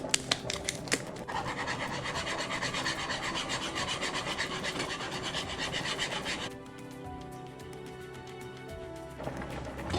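A whisk scraping and rasping rapidly against a pot as Parmesan cheese is worked into Alfredo sauce for shrimp fettuccine, a steady close stirring that changes texture partway through and continues to the end.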